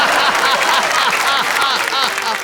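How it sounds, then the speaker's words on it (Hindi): Audience clapping at a Hindi comic poetry recital, an even, loud burst of applause throughout with no voices rising above it. "ऐसी तालियां बजी तो और जोश आ गया"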